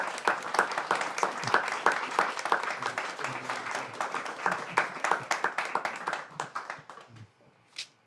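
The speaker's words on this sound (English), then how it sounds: "let's give a round of applause" Wedding guests give a warm round of applause for the parents during the ceremony: sustained, dense clapping from a crowd that fades out near the end.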